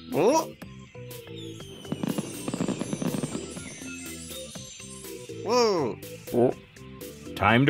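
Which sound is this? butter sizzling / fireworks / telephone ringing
fireworks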